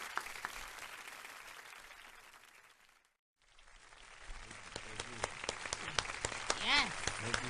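Audience applause for a guest on a community talk show, a steady wash of clapping that fades out, breaks briefly, then returns louder and denser, with people talking over it.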